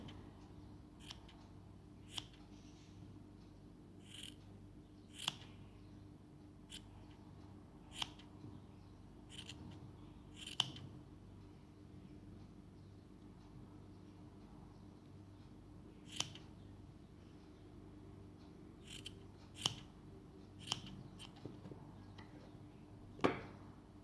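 Scissors snip excess yarn while trimming a handmade pompom, giving soft, sharp cuts spaced irregularly over quiet room tone, close and faint with no talking.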